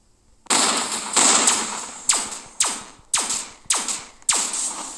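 Gunshots in a Roblox tycoon game: a spaced series of about seven sharp, loud, close reports, each with a quick metallic ring and decay, heard alone without talk.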